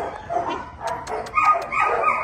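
A Labrador mix puppy from a shelter yips and barks excitedly, a quick string of close, high barks and whimpers growing busier toward the end.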